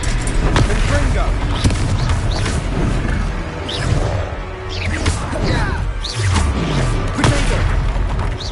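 Repeated Confringo fire-spell blasts in the video game Hogwarts Legacy crash and boom loudly in quick succession amid dense combat noise, with character voices shouting over the fight.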